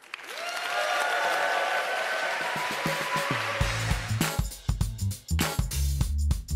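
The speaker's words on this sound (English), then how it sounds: "hear that round of applause to hear the first startup coming from Lebanon" A crowd gives a speaker a warm round of applause, steady dense clapping for several seconds before upbeat music with a thumping beat takes over and the clapping fades beneath it.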